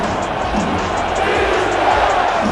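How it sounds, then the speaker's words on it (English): A dense crowd roars in a packed arena at a basketball game, a steady wall of many voices with rhythmic swells chanting "defense." "Crowd chanting defense."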